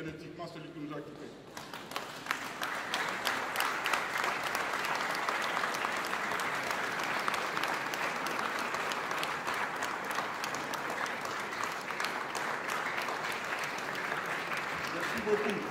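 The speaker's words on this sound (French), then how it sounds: "Je voudrais demander à tout le monde de se mettre debout et encore une fois applaudir frénétiquement celui qui nous a quittés." A standing audience at a memorial gathering breaks into sustained, enthusiastic applause that swells after a brief opening moment of speech, then holds as a thick, even wall of clapping and crowd noise to the end.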